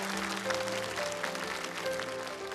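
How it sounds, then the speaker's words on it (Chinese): Studio audience applauding at a CCTV variety show before a magic act: a steady, even wash of clapping for about two and a half seconds, with faint tonal background music underneath. "希望大家能够再给我一点掌声，让我平复一下紧张心情"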